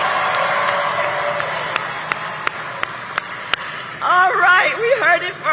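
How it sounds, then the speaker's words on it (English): Crowd at a campaign rally in the US applauding first-time voters, a steady roar of clapping and cheering with several sharp claps, before a voice begins speaking over the fading applause. "Can we applaud our leaders who are voting for the first time?"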